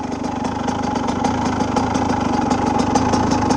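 A cheap used motorcycle engine idles steadily up close with a rapid, even, slightly rattly putter and no other sounds.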